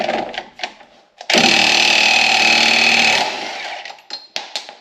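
An impact wrench set on high, fitted with a 32 mm socket, hammers loudly on a rusty axle nut of a Subaru Forester in one sustained burst of about two seconds, with handling clatter before and after.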